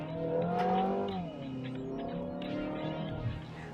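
A 2023 Mazda 6 Touring engine revs up under acceleration on an open road, a steady rising drone with harmonics that climbs in pitch, fairly loud and close, no talking.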